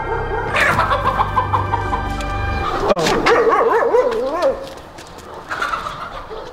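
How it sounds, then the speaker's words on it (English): A loose chicken, or similar fowl, at a mountain bike race gives loud, warbling gobbling calls nearby, over a low rumble that cuts out partway through, followed by quieter outdoor background sound. "Oh, chicken's out."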